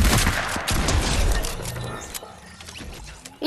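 Shotgun blasts in a video game, loud and close, fired in a quick double-pump burst followed by scattered mechanical clacks and a sudden crack at the end.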